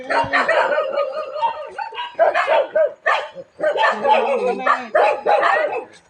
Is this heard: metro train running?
no